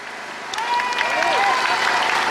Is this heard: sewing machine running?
no